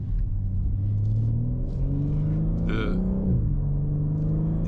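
A 2023 BMW M3 Competition engine pulls hard under acceleration, a loud steady drone with rising harmonics and a brief shift around the middle, heard from inside the car on a curvy road.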